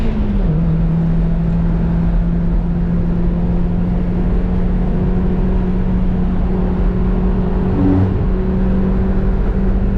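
A turbo and a non-turbo Mazda Miata race along a mountain road, heard as a loud, steady engine drone from inside the car with a sustained hum and rushing road noise, the pitch shifting slightly near the end.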